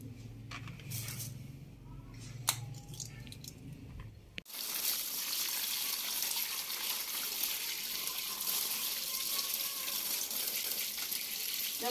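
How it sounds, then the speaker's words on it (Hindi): Hot water runs steadily from a tap in a village home, a continuous hiss and splash that starts abruptly after a few seconds of quieter background noise and then holds at an even level with no talking. "अभी पानी गर्म आ रहा है।"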